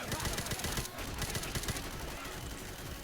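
Rapid automatic gunfire from a PC shooter video game, dense bursts of shots rattling continuously with voices talking over the action.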